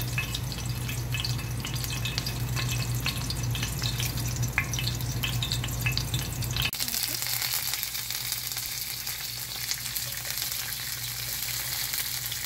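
Cloves, cardamom and cinnamon hit the tempering oil for a Hyderabadi chana dal and tomato curry, giving a dense, close sizzle and crackle that changes character partway through as the frying settles into a smoother hiss.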